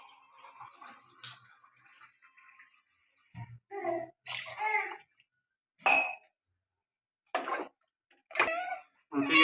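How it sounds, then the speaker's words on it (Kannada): Water poured over rice in a pot for chicken biryani, heard as several short splashing pours and clinks of a glass against the vessel, separated by quiet pauses, close and fairly clear. "ಎರಡು ಗ್ಲಾಸ್ ಅಕ್ಕಿಗೆ ನಾಲ್ಕು ಗ್ಲಾಸ್ ನೀರು"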